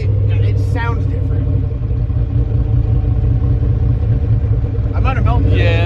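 A turbocharged Ford Ranger engine, running more boost with methanol injection, rumbles loud and close with a rough, uneven idle suggesting a misfire under power, while people talk briefly over it.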